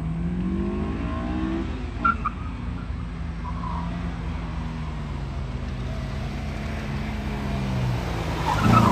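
Honda S2000 at an autocross event, a continuous car engine drone with tire skidding and squeal, fairly loud and steady, the tone rising and falling as the car is driven through the course.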